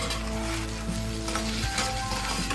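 Drumsticks and onions fry in hot oil, giving a continuous dense sizzle with light stirring scrapes, close and fairly loud, with no talking.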